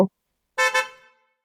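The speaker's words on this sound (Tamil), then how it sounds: "ஹாரன் சத்தம் கேக்குது பாரு" A brief double honk of a vehicle horn sounds after a short thump, fairly clear against silence.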